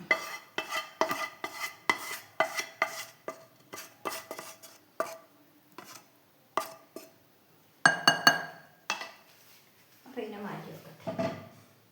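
Orange cake batter with sugar is stirred in a bowl, giving repeated close scraping and clinking strokes in an uneven rhythm, with a voice talking between them.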